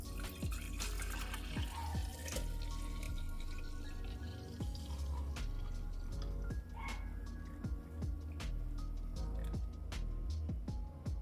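Lemon juice, a homemade health drink made with honey, poured into a container, heard as a soft steady liquid trickle with scattered drips and light clinks close by, with no voices over it.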